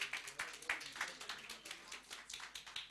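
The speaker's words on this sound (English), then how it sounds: "A round of applause for yourselves." Sparse, faint clapping from a small group, distinct individual claps in an uneven rhythm heard from a distance rather than a full ovation.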